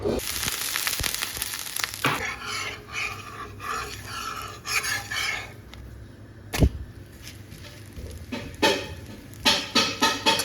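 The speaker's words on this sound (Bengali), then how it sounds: "এই যে এখানে প্যানে ধোসা হচ্ছে" Dosa cooking on a pan in a home kitchen, a soft continuous sizzle with clatter and scraping throughout, a sharp knock in the middle and a quick run of louder scrapes at the end, no talking.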